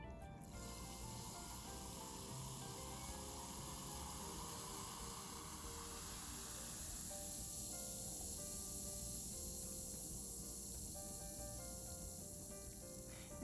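A fizzy bath bomb dissolving in water, releasing carbon dioxide as a steady, close, crackling hiss that continues unbroken at a constant level.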